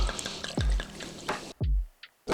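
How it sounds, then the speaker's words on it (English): Water pours and splashes into a hash washing bucket holding a submerged work bag of plant material, with broad watery gushes and low gurgles in two main bursts separated by quieter dripping. "And next we add the water."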